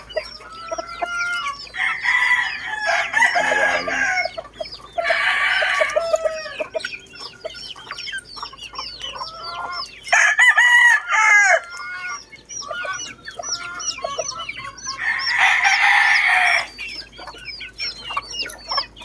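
Several backyard cockerels crow in repeated bursts, loud and close, with clucking and other fowl calls between the crows.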